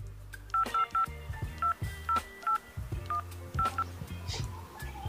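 Telephone keypad tones beep in quick clusters of short, even notes as a number is dialed on a phone, fairly close and clear over a low hum.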